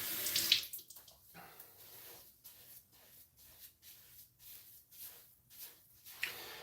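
Water from a tap splashes and gurgles in uneven bursts as shaving cream is rinsed off, fairly quiet and close, with pulsing surges rather than a steady stream.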